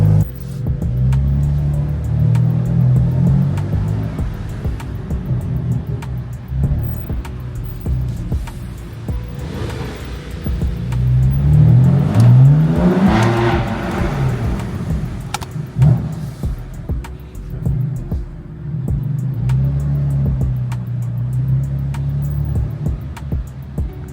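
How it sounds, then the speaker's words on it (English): A BMW engine on a cold start idles with a deep rumble and surges in rev, rising in pitch around the middle before settling back to a steady idle. "these cold starts are gonna get a lot longer and a lot louder"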